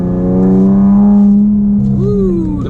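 A Chrysler 300 in paddle shift manual mode revs as a steady engine drone, then its pitch swoops up and eases back down after a downshift, loud and close with no talk.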